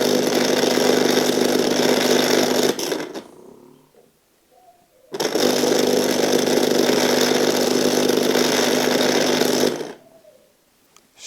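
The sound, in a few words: electric orange juicer motor running, Clatronic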